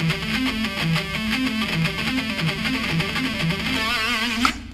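A guitarist plays a fast triplet pentatonic lick on a heavily distorted electric guitar in a rock style. A dense, loud, continuous stream of notes rolls without pause and ends on a brief sharp accent.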